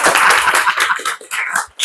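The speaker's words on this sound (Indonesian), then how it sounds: "Kasih tepuk tangan dulu" A small studio audience at a casual Indonesian podcast talk show claps in a brief, dense burst of hand claps lasting under two seconds, close and fairly loud, with a short dip near the end.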